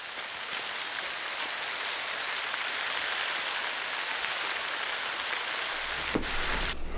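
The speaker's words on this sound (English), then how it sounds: "We had a downpour without any warning, just all of a sudden" A sudden heavy rain downpour pours in a steady hiss, with a brief thump and a deeper rumble near the end.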